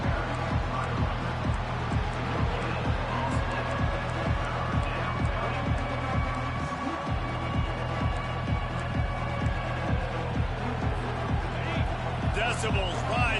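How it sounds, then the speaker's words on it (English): Steady, loud stadium crowd roar in a college football video game during a third-down defensive stand against Florida, continuous throughout with rhythmic low thumping and a commentator talking over it. "Decibels rising as the crowd gets behind this defense on third down"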